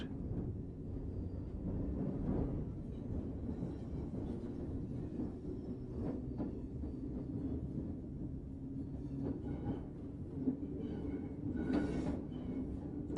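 Electric train between London Bridge and Cannon Street under a 20 mph speed restriction, power controller in notch 2 series position: a low steady rumble of running gear with faint clanks and squeals, muffled from inside the carriage.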